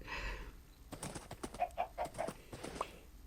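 A run of short, clipped Minecraft chicken clucks, six or seven quick bursts after a brief rustle, close and moderately loud.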